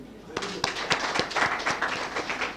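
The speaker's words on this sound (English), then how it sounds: "Clap for you" An audience at a research lecture clapping, distinct claps in a fairly regular rhythm building into a modest round, moderately quiet.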